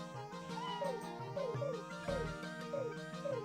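A cat meows several times in a repeating pattern as a menu sound in the video game Suikoden, bright and close, over a soft musical backdrop.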